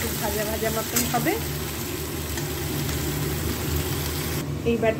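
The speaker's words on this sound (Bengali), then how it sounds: "সবজিগুলো একটু নাড়িয়ে চাড়িয়ে ভেজে নিয়েছি" Mixed vegetables stir-fry in a pan with a continuous close sizzle and occasional scraping stirs, a faint voice briefly audible underneath.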